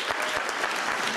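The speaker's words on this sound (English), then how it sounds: "It was the only standing ovation of the day as the audience erupted" A packed, standing-room-only audience at a council hearing on exempting single-family homes breaks into a standing ovation, with dense, continuous clapping filling the room.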